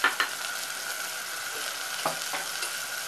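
Onion, tomato and a pinch of asafoetida sauté in a generous amount of oil for a chutney, giving a steady soft sizzle with a few scraping stirs near the start and midway, with no talking.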